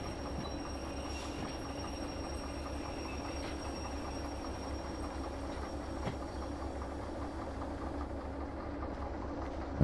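In the Derail Valley train game, a locomotive rolls slowly to couple onto a string of rail cars, with a steady rumbling roll, faint wheel clicks and a soft clank right at the end.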